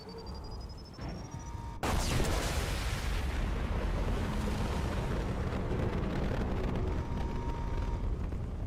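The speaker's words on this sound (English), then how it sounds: "Impending explosion." A loud explosion in the video game Mass Effect 2 erupts suddenly and gives way to a sustained roaring rumble that stays heavy and dense to the end.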